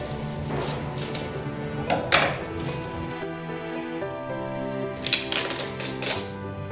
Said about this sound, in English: Now I'm going to unwrap it.